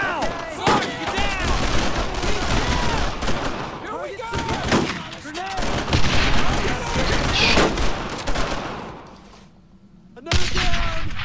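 Dense gunfire from Brothers in Arms: Road to Hill 30, WWII shooter: loud rapid bursts and booming shots overlapping continuously, briefly dropping away near the end before another blast, with voices shouting underneath.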